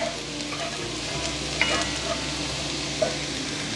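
Garlic sizzles and spits in a pan for a creamy chicken Alfredo, a loud close crackle running unbroken, with a few sharp utensil taps from stirring.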